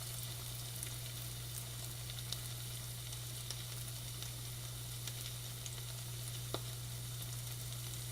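Chicken breast pieces frying in a pan, a steady close sizzle with soft crackle and occasional small pops, continuous and even throughout.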